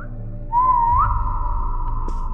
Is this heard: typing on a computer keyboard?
no